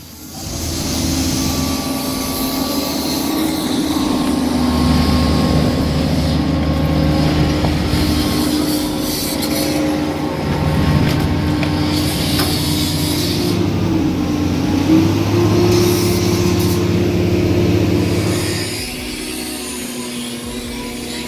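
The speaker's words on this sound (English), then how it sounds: "This hydraulic shear runs on a stable hydraulic drive, delivering consistent torque." A scrap metal processing machine with a hydraulic shear runs in a steady loud drone with a low engine hum and grinding mechanical noise, sustained throughout without speech.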